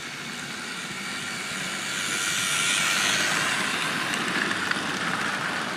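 A steady mechanical whir and rumble of a small Bachmann James the Red Engine model locomotive running, swelling slightly louder midway, with no voices.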